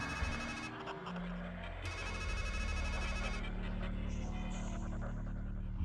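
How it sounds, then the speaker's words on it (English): A payphone rings in the video game Strangeland, giving two shrill electronic bursts separated by a short pause and then a lower tone, heard faintly over a quiet game soundtrack. "Is he gonna throw up a whole payphone so he can answer it?"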